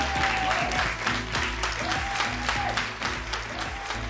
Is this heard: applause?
yes